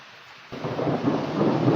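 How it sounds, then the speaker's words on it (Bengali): Thunder rumbling during the first rain of the year in Riyadh, a quiet start then a deep, swelling roll that builds and holds with rain noise underneath, no voices. "এই দেখুন বিজলি চমকাইতেছে, বিজলি আওয়াজ শোনা যায়"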